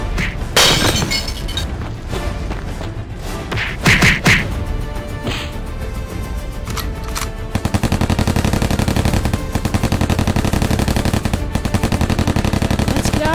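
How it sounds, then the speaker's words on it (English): Gunfire in the LEGO Batman video game: scattered loud shots and impacts early on, then a sustained rapid machine-gun burst rattling steadily and close for the last several seconds. "It's Batman! Shoot him!"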